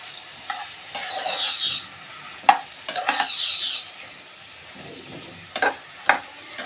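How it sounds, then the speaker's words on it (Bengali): Spices fry with salt and turmeric in a pan, a soft sizzle broken by bursts of spatula scraping and stirring and a few sharp clinks, close up with no talk. "নুন হলুদ দিয়ে আগে ভেজে নেব একটু ভাজা ভাজা করে নেবো"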